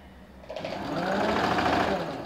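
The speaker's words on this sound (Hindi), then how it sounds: "किनारे पे एक सिलाई लगाइए आप" A sewing machine runs a steady stitch along the edge of a strip on ladies' straight-cut pants, a continuous close whir that starts softly and picks up after a moment.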